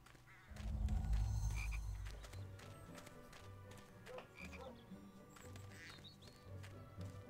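A frog croaking in the Harry Potter 2 video game on PS2, a loud, low, throaty croak near the start followed by shorter repeated croaks over game ambience with faint clicks and chirps, no speech.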